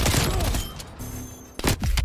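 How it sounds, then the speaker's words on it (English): Frag grenade thrown and exploding during Call of Duty: Cold War gameplay, heard as a loud burst amid ongoing gunfire and game noise, with a sharp blast near the end. "Throwing frag grenade."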